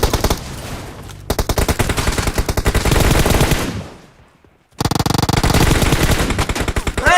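Loud, sustained automatic gunfire in PUBG Mobile: dense rapid bursts that break off into a short near-silent pause, then resume just as fiercely, with no speech.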